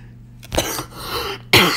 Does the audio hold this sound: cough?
yes